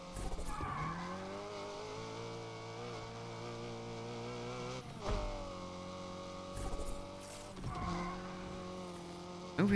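A car drifts in Need for Speed Unbound, its engine droning steadily while tires squeal in long sliding streaks, with brief breaks and surges as the drift falters.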